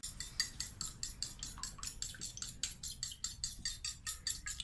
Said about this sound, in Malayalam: അപ്പൊ നമുക്കിനി നമ്മുടെ മുട്ട ഒന്ന് ഇളക്കിയെടുക്കാം.